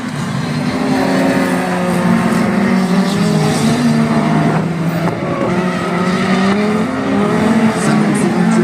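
Rallycross race cars thunder around the Dreux circuit in France as a Honda takes its joker lap, with loud, continuous engines roaring and shifting pitch and occasional tyre noise, while a commentator talks over them.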